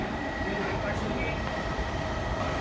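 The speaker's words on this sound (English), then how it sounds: "The local train will arrive shortly on track 3." A local JR East train pulls in at a Japanese station platform, a steady rolling rumble of wheels and motors with a faint hiss above it and no voices.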